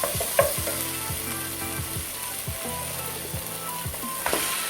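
Chicken pieces added to a hot pan of cooked tomatoes fry with a steady, loud sizzle and occasional stirring knocks, close up and continuous, with no talking.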